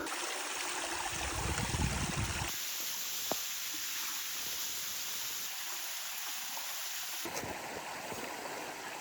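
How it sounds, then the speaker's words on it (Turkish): Large waterfall at Marmaros on Gökçeada, a steady broadband rush of falling water that fills the whole clip at moderate level, shifting in tone as the position changes, with no talk. "Gördüğüm en büyük şelale şu ana kadar."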